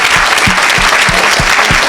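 A church congregation at a revival service applauds loudly and continuously, dense close clapping with a few distinct hand strikes standing out in a steady rhythm.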